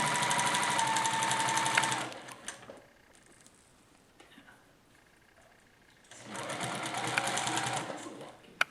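A sewing machine stitching quilt pieces runs in two steady bursts of rapid, even motor-and-needle chatter, separated by a few seconds of near quiet with faint handling clicks; the second run ends in a sharp click during a quilt-a-thon.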